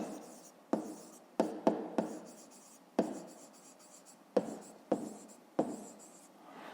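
Pen strokes scratch across paper in short bursts, with sharp taps where the tip meets the page at the start of each stroke. They repeat close up at an uneven pace during a fifth-grade maths exercise, with no talking.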